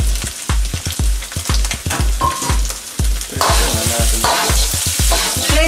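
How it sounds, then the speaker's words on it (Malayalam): Chopped onion and capsicum sauté in a pan, with rhythmic spatula knocks against the metal over a sizzle that grows louder and fuller halfway through, close-up with no talk. "ഇത്രയും ചേർത്ത് നന്നായിട്ടൊന്ന് വഴറ്റാം."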